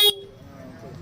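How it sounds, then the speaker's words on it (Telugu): Honda Cliq scooter horn after a socket repair, one short sharp toot at the start, loud and close, followed by quiet background hum. "హార్న్ కూడా బాగానే పనిచేస్తుంది."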